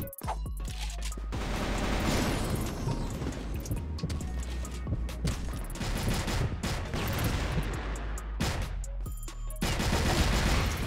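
Gunfire in the CrossFire video game, with a CheyTac Hades sniper rifle in play, heard as dense, continuous shooting and clatter throughout a busy multiplayer match, loud and close with little pause.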